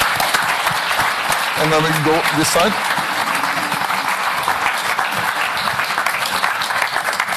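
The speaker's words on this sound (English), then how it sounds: "maybe a big applause for first group" Applause fills a press conference room for the first group at the Oslo 2023 Wanda Diamond League, steady and dense throughout while a voice speaks briefly over it.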